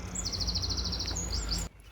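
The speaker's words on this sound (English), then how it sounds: "Did you hear that? The birds wish us a good journey." Birds sing on an early-morning stretch of the Camino near Burgos, a rapid run of high, evenly spaced chirps over steady low outdoor rumble, followed by a few scattered calls before the sound cuts off.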